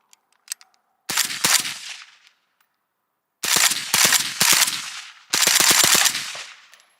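Three strings of rapid shots from a suppressed 5.56 AK-pattern rifle with a tuned gas system and a KNS piston, each burst a loud, chunky cluster of reports with short pauses between, plus a few light clicks before the first.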